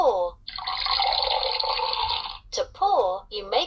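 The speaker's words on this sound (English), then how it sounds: "To pour, you make something like water flow." A LeapFrog A-Z Learn With Me dictionary toy plays a pouring water effect, a steady hissing stream lasting about two seconds, followed by a short burst of electronic speech.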